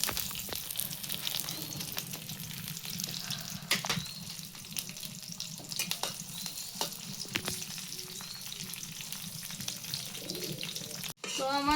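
Chopped onions and green chillies fry in a pan with a continuous low sizzle, punctuated by scattered stirring clicks and scrapes, and faint speech in the background.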